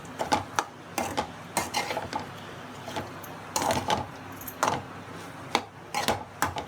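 Cooked rice being stirred into a tomato mixture in a pan for tomato rice, heard as repeated close scrapes and clinks of a spoon against metal in an irregular rhythm over a faint background hiss.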